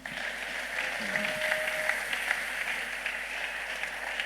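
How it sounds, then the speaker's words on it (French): A church congregation applauds steadily, a broad even wash of clapping sustained throughout at moderate loudness, with no talk over it. "Acclamez."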